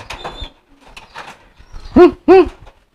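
Domestic pigeon cooing nearby, a few soft low murmurs followed by two loud, resonant rolling coos in quick succession, with no voices.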